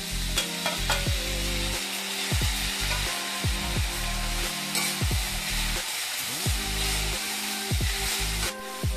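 Tomatoes fry with garlic in a pan, a close, steady sizzle broken by repeated scraping strokes of a spoon stirring at an uneven rhythm throughout.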